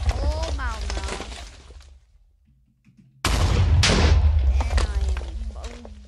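TNT blowing up in modded Minecraft: a player talks excitedly, then after a brief silence a loud, sustained blast of rumbling explosions begins and keeps going under more talking.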